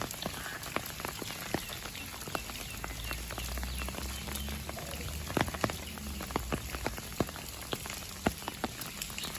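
Steady heavy rain pours in Mirpur, Kashmir, a dense continuous patter with close, sharp drops striking a hard surface, unbroken throughout and with no voices.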